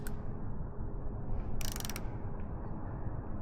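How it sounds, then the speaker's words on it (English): Torque wrench tightening a frame slider bolt on a Kawasaki Z900RS motorcycle: a soft, close ratcheting rasp with a brief louder burst of clicks near the middle, otherwise quiet. "we're going to begin to tighten"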